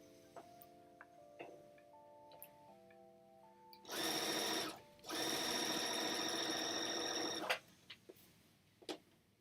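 A sewing machine stitching the bottom edges of a fabric bag runs in two loud bursts, a short one and then a longer steady run. Faint clicks and quiet tones surround the bursts.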